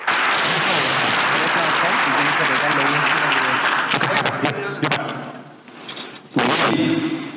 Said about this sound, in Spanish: recibamos con un fuerte aplauso Leonel Villarroel